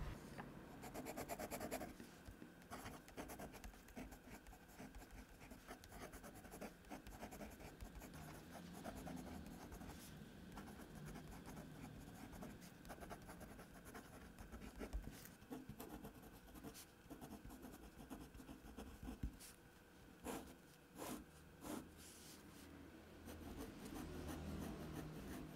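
Pilot Kakuno fountain pen nib scratching and gliding across smooth paper, a steady close-up rasp of continuous writing strokes with brief pauses, faint and intimate, with no talk over it.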